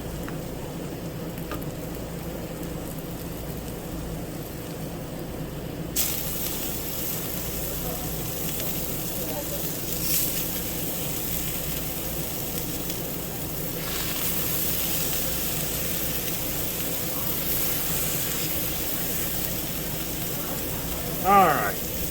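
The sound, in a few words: bacon-wrapped filet mignon sizzling on Blackstone griddle in oil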